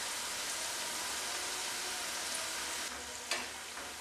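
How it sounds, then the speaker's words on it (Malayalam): A potato snack deep frying in hot oil, crisping into an evening snack, gives a steady, dense sizzle that holds throughout, with a couple of brief sharper crackles near the end. "ഇത് നല്ലതുപോലെ ഒന്ന് ഫ്രൈ ആയി വരട്ടെ, അത് കഴിയുമ്പോൾ നമുക്ക് എണ്ണയിൽ നിന്ന് എടുത്ത് മാറ്റാം"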